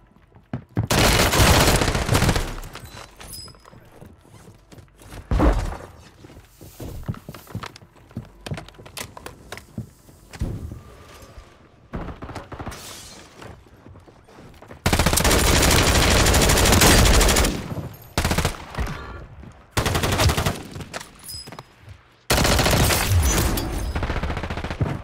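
Automatic weapon fire from a Bruen machine gun in Call of Duty Warzone on the Rebirth map, with loud sustained bursts at the start and in the last third, and sparser shots in between.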